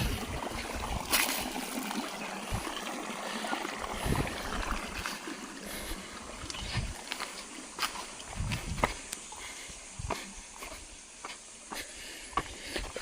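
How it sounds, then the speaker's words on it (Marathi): A stream in the Konkan countryside trickles and gurgles steadily nearby, with scattered footsteps and rustles crunching over it, no voices. "हे बघा हे वाहतं पाणी आहे"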